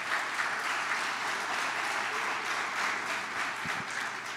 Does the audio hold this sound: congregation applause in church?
yes